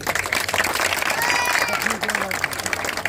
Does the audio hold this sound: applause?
yes